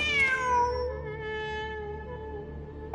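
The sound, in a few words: cat meowing in a video game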